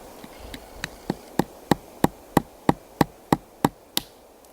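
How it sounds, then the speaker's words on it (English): Acorns set on edge on a stone are cracked with a hammer stone outdoors in a grey pine setting, a steady series of about fourteen sharp, close knocks growing louder, ending in a final crack. "You hear that crack, and that's your cue to stop"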